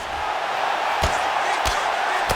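A UFC 5 arena crowd keeps up a steady roaring murmur, punctuated by three sharp thuds of strikes landing in the fight.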